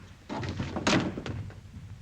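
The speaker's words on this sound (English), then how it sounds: "Shall I shut the door or leave it on the latch?" A door shuts with a solid wooden thud in a 1943 British film scene, a single close slam with brief rattling around it and little else.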